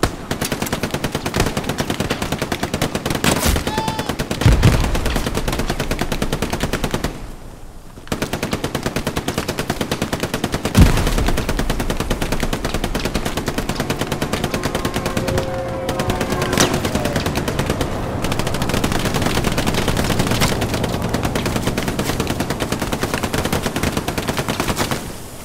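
Video game gunfire rattles in long, dense automatic bursts and pings off a fence. The shooting is loud and close, runs almost nonstop, and breaks only for a couple of short pauses.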